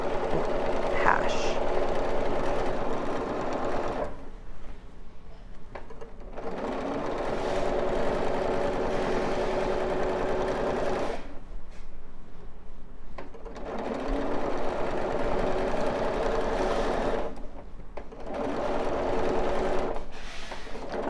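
A sewing machine stitches binding onto a quilt in three long runs, whirring steadily with short quiet pauses between them. A voice talks softly under the stitching.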